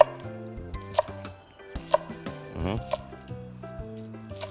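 A knife chops vegetables on a board in sharp, evenly spaced strokes about a second apart, under someone talking in Thai.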